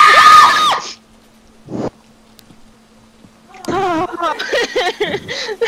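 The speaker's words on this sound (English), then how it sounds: "She just closed the door on herself and screamed." A ghost's shrill scream in the video game Phasmophobia bursts out loud at the start, followed by a single dull door thud, a quiet stretch, then people talking.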